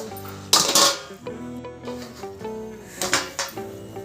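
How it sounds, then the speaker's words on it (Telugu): A metal lid clanks onto a cooking pan of oats upma, with a sharp clatter followed by smaller clinks and knocks of cookware. "ఇది ఇంకా 2 నిమిషాలు అయితే మూత పెట్టేద్దాం"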